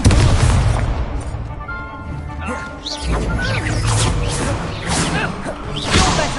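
Incendio fire spell bursting in the Hogwarts Legacy video game, heavy booming blasts and crashing whooshes overlapping in loud bursts, with brief voices from the fight mixed in.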